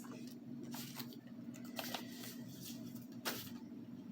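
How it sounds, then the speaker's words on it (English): A tarot deck being shuffled by hand gives quiet, soft riffling and patting sounds in loose bursts, alone and close by. "I shuffled it back in and it came out again."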